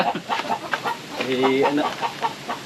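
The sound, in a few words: chicken clucking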